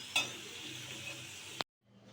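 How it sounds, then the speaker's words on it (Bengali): Raw potato French fries crackle in hot oil with a steady close sizzle and a sharp utensil tap near the start. A second clink comes just before the sound cuts to near silence at the end. "এখন যে বাকিগুলো আছে আমি সেগুলো দিয়ে দিব ভাজার জন্য"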